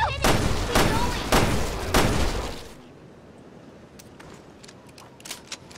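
Rapid gunshots fire in Resident Evil Revelations 2, several sharp bursts in quick succession over the first three seconds, then only faint clicks and small game sounds.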